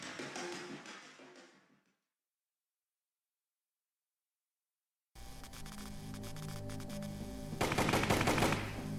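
Machine gun fire in the Operation Hardcore game, a dense rapid rattle of shots that starts abruptly after a stretch of silence and grows louder toward the end, with no talk.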